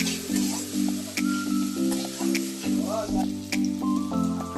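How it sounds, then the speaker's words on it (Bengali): Chopped onions fry in a pan while being stirred, with a steady close sizzle and tonal music playing over it. "আমি কুচনো পেঁয়াজগুলো ওর মধ্যে দিয়ে দেবো, আর পেঁয়াজগুলো নাড়তে থাকবো যতক্ষণ না ব্রাউন কালার আসে"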